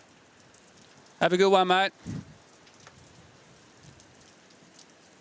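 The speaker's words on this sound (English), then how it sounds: "The rain is still pouring." Heavy rain pours steadily onto a beach during a surf contest, a soft continuous hiss that runs beneath a brief spoken line from a man near the microphone.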